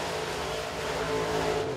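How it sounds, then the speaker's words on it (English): A crate late model race car on a qualifying lap at Crossville Speedway, its engine a loud sustained roar with a steady droning pitch, holding near and constant throughout. "Next car to qualify to Monterey, this is a 76R of Robert Edwards."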